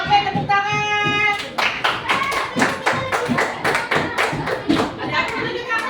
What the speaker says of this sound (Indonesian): Sama, oke, tepuk tangan.